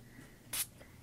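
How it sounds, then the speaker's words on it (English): A single quick spritz of water from a spray bottle onto paper, a short hiss breaking an otherwise quiet room. "you can spray this just with regular water as well for this technique"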